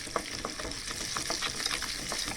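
Jackfruit puzhukku being stirred and mashed in a pan, with repeated soft scraping and squelching strokes over a constant frying hiss, close by and fairly even in level, no talking.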